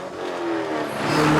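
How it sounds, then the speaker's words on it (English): Supercharged V8 of a 2012 Cadillac CTS-V Coupe built to 650 horsepower, a loud, close, sustained rev that climbs steadily in pitch and intensity. "There is nothing sexier than the rev of a high horsepower engine."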